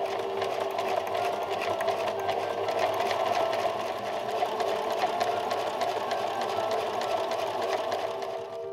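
Sewing machine stitching bias tape along the inside of a Victorian 1882 day gown bodice, a steady rapid mechanical whirr running unbroken for nearly nine seconds, close and even, with no talking.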